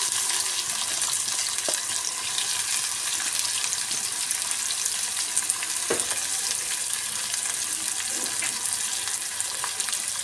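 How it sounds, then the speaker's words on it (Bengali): A large chopped onion sizzles steadily in hot oil with a cumin-seed tempering, a dense continuous frying hiss with a few faint stirring knocks and no talk. "তো পেঁয়াজটাকে আমি খুব ভালো করে ভেজে নেব।"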